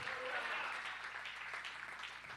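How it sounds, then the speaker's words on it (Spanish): Church congregation applauding at an afternoon Spanish-language service, a steady wash of many hands that carries evenly from start to finish with no speech over it. "¿Alguien puede darle un aplauso al Rey de Reyes esta tarde?"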